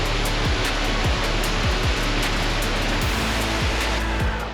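Waterfall on the Trail of Ten Falls in Silver Falls State Park, a steady loud wash of rushing water with no break, overlaid by low thumps.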